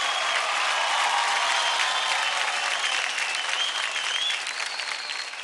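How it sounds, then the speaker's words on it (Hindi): A television dance-show audience gives dancers Mohina and Neerav loud, sustained applause, dense clapping from a large crowd that tapers slightly at the end. "जोरदार तालियां हो जाए मोहिना और नीरव के लिए"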